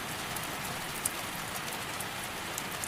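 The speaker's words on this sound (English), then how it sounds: "The rain continues its steady percussion against the windows and roof." Steady rain patters against windows and a roof, a dense even hiss with faint scattered drop ticks, continuous and alone.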